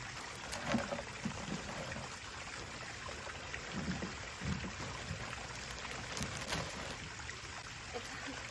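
Small waterfall in an aquarium gallery, a constant rushing, trickling wash of falling water close by that fills the background, with faint indoor noise.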